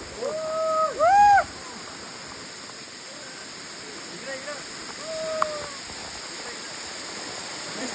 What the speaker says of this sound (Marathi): आणि हा बघा कोसळणारा धबधबा